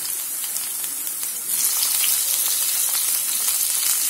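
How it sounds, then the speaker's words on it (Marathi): Potatoes fry in a pan for sabudana khichadi as tomatoes are tipped in, giving a steady close sizzle that grows louder and brighter partway through, with no talking. "बटाटे इथे व्यवस्थित झाले की आपण आता याच्यामध्ये आपले टोमॅटो टाकून घेऊया."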